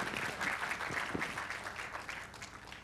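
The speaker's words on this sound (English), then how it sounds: "Please give them a round of applause." Sustained applause from an audience at a toy design competition award ceremony, steady and fairly dense, fading slightly toward the end, with a few louder claps standing out.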